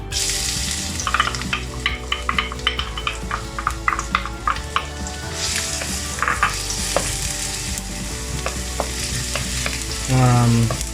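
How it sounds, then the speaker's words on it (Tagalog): Garlic sautés in hot oil in a pan, a steady loud sizzle broken by repeated scraping taps of a stirring utensil, with a brief splash of running water near the end. "Gisa na natin yung ating bawang."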